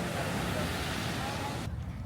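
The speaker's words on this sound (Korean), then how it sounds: "파도가 넘넘 센데요" Powerful surf at Waimea Bay on Oahu's North Shore in rough, windy weather: a loud, dense roar of breaking waves mixed with wind buffeting the microphone, continuous and close.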